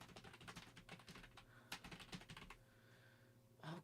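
Computer keyboard typing, quick irregular clacking keystrokes in dense bursts, then a pause before a few final taps, close but quiet.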